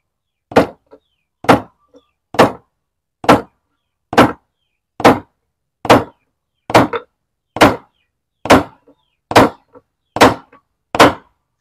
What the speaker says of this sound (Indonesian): cara memaku biar tidak bengkong